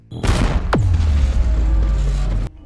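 A grenade blast destroys a huge tank in the science-fiction film The Creator: one sharp close explosion, then a long deep rumbling roar that holds for about two seconds before cutting off.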